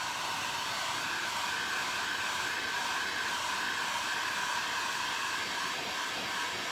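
A hair dryer blows steadily on a smashed can craft, a close, constant whirring hiss with no change in pitch or any voices.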